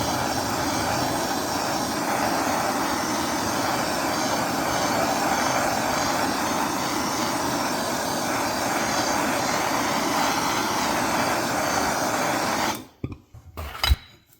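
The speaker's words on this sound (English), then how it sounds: "I can just go ahead and heat the outside of this." A heat gun or torch roaring steadily while the outside of a John Deere DLTX carburetor is warmed before cleaning; a loud, continuous broadband whoosh that cuts off abruptly near the end, followed by a few clunks.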